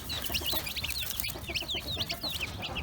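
A broody dwarf hen clucks repeatedly among her newly hatched chicks, whose high peeping chirps run steadily over the low, close clucks outdoors in cool weather.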